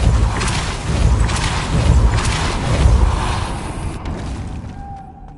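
Repulso spell blast in Hogwarts Legacy, a loud, dense, rumbling whoosh with several pulsing surges that gradually fade out, ending on a faint ringing tone.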